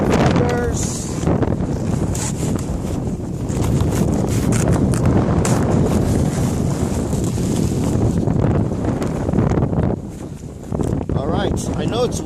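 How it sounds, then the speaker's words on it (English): Heavy wind buffets the microphone in a steady low roar at a snowboarding hill, Canada Olympic Park, with a person talking underneath throughout. "I know it's windy."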